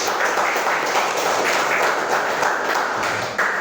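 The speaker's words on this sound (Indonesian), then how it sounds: "tepuk tangan biar semangat" A fifth-grade primary school class claps their hands together in a classroom during a lesson on zakat. The clapping is loud, close and continuous and holds steady throughout.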